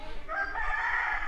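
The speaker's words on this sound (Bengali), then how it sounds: "আর মুরগির ডাক" A rooster crows once in a village near Ayodhya Pahar in Purulia, a short, fairly faint call carried over the quiet countryside, with no talk.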